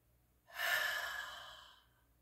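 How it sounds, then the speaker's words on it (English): One long, deep inhalation through the nose during a half lotus meditation, rising quickly and then tapering off, close and soft with nothing else heard. "Ready? I'm going to breathe in."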